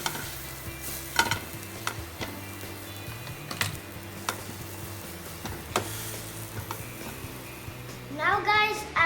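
A veg cheese sandwich cooks in a pan, pressed flat with a plate, and is flipped to brown both sides, sizzling steadily with occasional scraping and clinks of utensils throughout.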